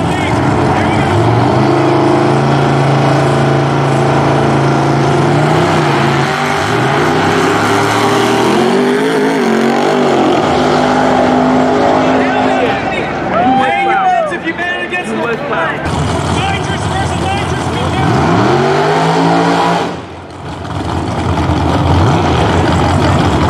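Nitrous-fed small-tire drag race cars run at Darlington Dragway, loud engines roaring and rising in pitch with a continuous wall of motor noise, while a voice talks over it.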